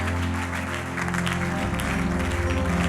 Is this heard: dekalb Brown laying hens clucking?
no